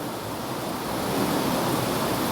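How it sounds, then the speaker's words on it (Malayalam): Heavy monsoon rain pouring outside, a dense continuous wash of broadband hiss that swells slightly louder toward the end, with no voices. "പുറത്ത് അങ്ങനെ പെയ്ത് കൂട്ടുകയാണ്, റെയിനിങ് കാറ്റ്സ് ആൻഡ് ഡോഗ്സ്"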